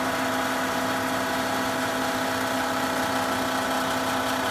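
A wood lathe spins a turned feather pen at close to 2,000 RPM, giving a steady, even motor hum and whir with a constant tone and no voices.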